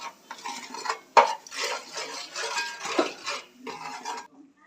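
A utensil scrapes and clanks in a pan while ingredients are stirred in oil with coriander, with repeated scraping strokes, a sharp metallic knock and a faint sizzle underneath.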